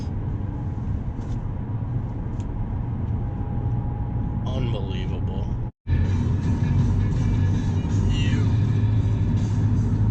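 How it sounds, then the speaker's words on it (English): A Honda Civic driving in rush-hour traffic, heard from inside as a steady low road and engine rumble throughout, broken by a brief dropout, while a person talks over it. "you're going straight into rush hour traffic"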